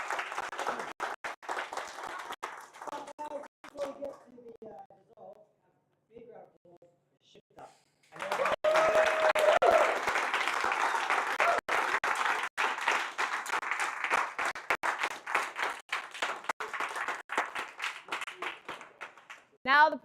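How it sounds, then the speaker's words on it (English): An audience at a laser tag tournament event claps and cheers in a sustained round of applause, loud and full, following a stretch of someone speaking over sparse scattered claps. "Big round of applause for him."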